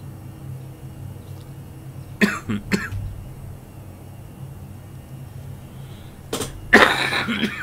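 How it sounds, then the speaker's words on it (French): Two separate bouts of coughing, each a short burst of two or three sharp coughs, close to the microphone over a steady low drone in an aircraft cabin at about 15,000 feet. "Oh, c'est désagréable cette toux"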